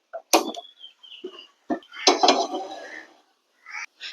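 A metal pan clanks and scrapes in a few quick knocks and is set down on a lit stove with a short clatter, ready for frying mackerel, then quiet shuffling.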